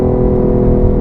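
A 2015 BMW i8 electric supercar drives along, its engine giving a loud, close, steady low hum and whir with a droning tonal character and no voices over it.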